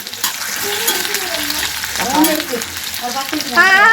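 Food frying in oil in a home kitchen while a meal is made for a birthday celebration: a continuous close sizzle, with faint tonal voices and other household sounds drifting in the background.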